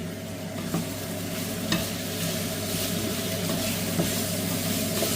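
Overnight-marinated chicken sizzles steadily in a hot pan as it turns golden brown, a constant close frying hiss with a few faint clicks of stirring.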